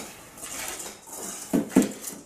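Dry ingredients of icing sugar, flour and almond powder being stirred together in a bowl for almond financiers, with soft scraping and a couple of sharp utensil knocks against the bowl near the end.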